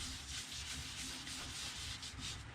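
Continuous close-up sanding on a turned Bradford pear hollow form, a rhythmic scratchy rubbing back and forth with no voices.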